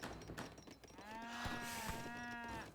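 A cow moos in the real-time strategy game Age of Empires III: one long, drawn-out lowing call at steady loudness, close and clear over faint game background sounds, with no talk.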